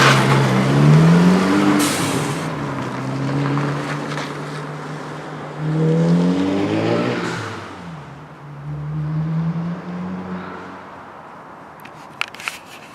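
A VW MKV GTI 2.0t fitted with an AWE cat-back exhaust drives past, a mellow low engine drone rising in several revving pulls through the gears, with wind noise over it.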